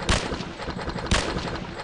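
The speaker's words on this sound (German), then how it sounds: "was schießt denn hier auf mich?" Gunfire hits the player in the space video game Empyrion: two sharp, loud bursts about a second apart over continuous rumbling noise.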